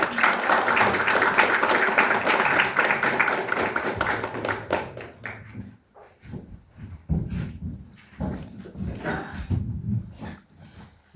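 An audience in a lecture hall applauds a historian at a conference on the Battle of Arica: dense clapping for about five seconds, then thinning into scattered claps, taps and shuffling.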